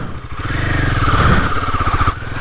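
Royal Enfield Himalayan 450 motorcycle pulling in first gear on an off-road trail, a steady close mid-pitched engine drone with a rising rev in the middle and a throttle drop near the end, no talking.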